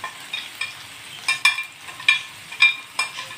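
Dry spices, green chillies, tomatoes and fenugreek go into a frying pan for potato and fenugreek curry, making soft sizzling with intermittent scraping and stirring clicks, close and moderately quiet.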